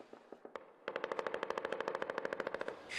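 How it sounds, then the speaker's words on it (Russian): Automatic gunfire from fighting in a combat zone near a city, with a few scattered single shots, then a long rapid machine-gun burst of evenly spaced cracks, faint and distant with slight echo, no voices. "Периодически слышны выстрелы и взрывы"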